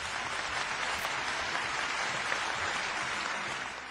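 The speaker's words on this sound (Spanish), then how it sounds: "¡Un aplauso!" Applause for a teacher after her remarks, a steady wash of clapping at moderate level for about four seconds that fades slightly at the end.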